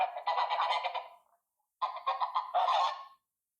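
Several geese honk in two bursts of loud, harsh overlapping calls, a short pause between them, the flock close by with no talking.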